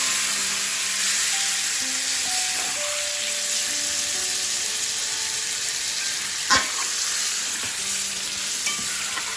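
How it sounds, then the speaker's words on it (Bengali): A prawn and jackfruit curry fries hard in a village kitchen pan as water goes in, giving a loud, continuous close sizzle and hiss with one sharp clink partway through and no talking. "এখন দিয়ে দিব জল।"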